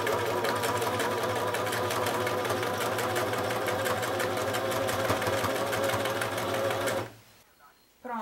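A sewing machine runs a continuous zigzag stitch along a fabric edge for a bread basket, its fast rhythmic needle clatter steady and close until it stops near the end.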